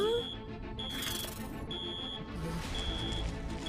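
A cartoon alarm beeps in repeated high electronic pulses over a dense bed of background music and noise, steady and moderately loud.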